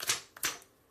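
Aluminum business card flexed and tapped by hand, giving a few sharp metallic clicks and a thin rattle, close and brief, with no voices.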